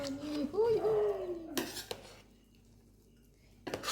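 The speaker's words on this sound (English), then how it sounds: "So mix the biryani." Chicken biryani stirred in a pot, with metal scraping and clinking through the first second and a half, then a couple of sharp knocks and a short clatter near the end, with quiet room tone between.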